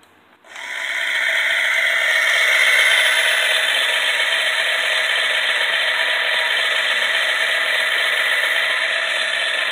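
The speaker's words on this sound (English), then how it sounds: "Realistic sound and sawing action." A Stanley Jr. toy chainsaw starts up and runs with a steady, loud electronic buzzing whir that holds constant without pause.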